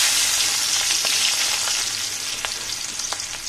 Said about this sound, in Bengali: তেলটা গরম হয়ে গিয়েছে। অন্যান্য কাজ করতে করতে তেলটা এদিকে গরম হয়ে গিয়েছে। পেঁয়াজগুলো দিয়ে দিচ্ছি।